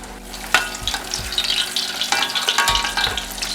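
Roht dough frying in hot oil for Chaitra Navratri makes a loud, close, continuous bubbling sizzle, with a few sharp thumps and splashes as the dough shifts in the pan.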